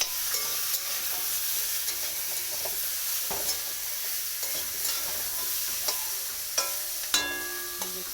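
Vegetables fry in a pan for a chara pona fish curry while a spatula stirs them, giving a steady close sizzle broken by scraping strokes and a few sharp clinks, with no talking.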